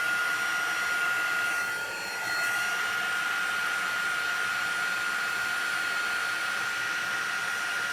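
A heat tool blows hot air over embossing powder on a rubber-stamped image, a steady close whooshing whine with a brief dip as it is moved, with no talking.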